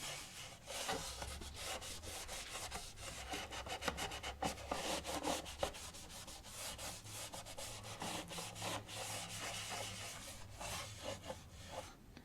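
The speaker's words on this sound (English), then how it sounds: "take a damp cloth, very lightly damp cloth, and some very mild detergent" A lightly damp cloth with a drop of mild detergent rubbed over a violin's wooden body, producing close, continuous rhythmic wiping and rubbing strokes with no voices.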